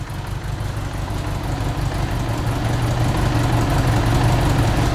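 An old lawnmower engine, choke off, idles steadily and close up, a low, even running drone with no voices over it.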